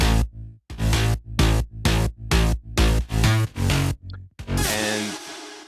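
A gritty mid bass synth from a remix, built with Serum and Spire, pulses in loud, heavy rhythmic stabs about twice per second before a sustained swelling hit at the end.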